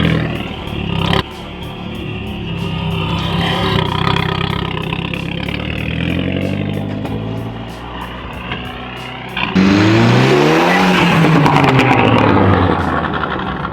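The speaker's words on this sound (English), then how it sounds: "I'm gonna go rip this thing up on the lawn." An Audi TT tears across a lawn, its engine roaring and revving in surges, dipping and swelling, then a sharp rise into a hard, climbing rev near the end; loud and close with no talking.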